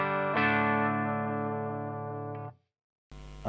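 Electric guitar amplifier with a Heritage speaker in a basket-weave cabinet, captured through a Neumann microphone via a cab simulation plugin: a single sustained distorted chord rings out and decays, followed after a short silence by another strummed chord.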